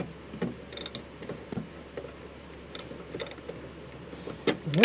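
A ratchet works a 10 mm bolt out during wiper motor replacement on a 2004 Silverado, giving faint, irregular clicking bursts close by with metallic jingles in between.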